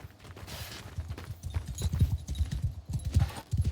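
Horses clip-clop in a steady, busy rhythm as mounted troops move out in the video game Mount & Blade 2: Bannerlord, hooves close and fairly loud with battle noise around.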